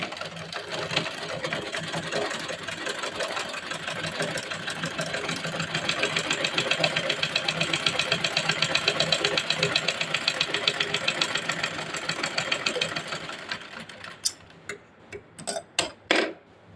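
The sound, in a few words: sewing machine stitching fabric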